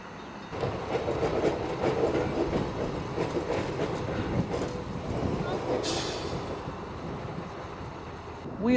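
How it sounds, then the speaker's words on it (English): A Wellington tram car rides along the rails toward the beach, giving a steady rumbling clatter of wheels and car body that carries on throughout, heard from inside the car. "We'll now take a tram journey down to the beach and back again to experience what riding in a Wellington tram car is like."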